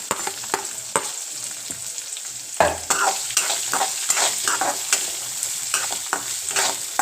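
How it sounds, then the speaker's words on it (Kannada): Finely chopped onion sizzles steadily in hot oil in a pan, with a spoon clattering and stirring at intervals, close and with no voices. "ಆನಿಯನ್ ಹಾಕಿ ಆನಿಯನ್ ಪೂರ ಟ್ರಾನ್ಸ್ಪರೆಂಟ್ ಆಗೋವರೆಗೂ ಸ್ವಲ್ಪ ಅದನ್ನು ಹಾಗೇ ಬಾಡಿಸ್ಬಿಡಿ"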